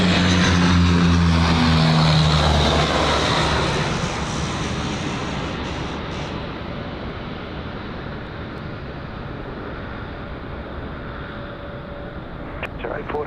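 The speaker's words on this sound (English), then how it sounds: "Jetstar 411 from the Gold Coast." A Jetstar jet airliner at Sydney Airport on runway 16 right gives a loud, deep engine roar that gradually fades to a softer distant rumble, with a voice talking over it.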